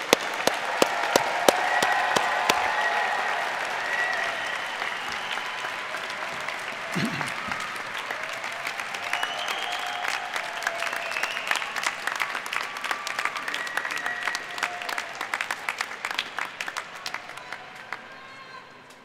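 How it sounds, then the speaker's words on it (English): Graduates at the 2017 Heinz College diploma and awards ceremony in an arena receive one final round of applause, a dense, sustained crowd clapping that holds steady for the whole stretch with some voices mixed in. "let's give the graduates one final round of applause"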